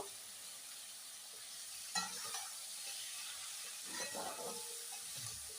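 Flat beans and cauliflower sautéing in a pan for a light home dinner, a faint, steady sizzle with a couple of soft stirring knocks.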